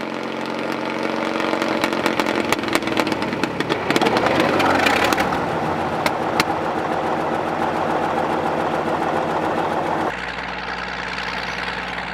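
A Caterpillar D8E crawler tractor's big diesel engine clatters and chugs steadily close by, surging briefly as it catches, then settles into a rough, even idle.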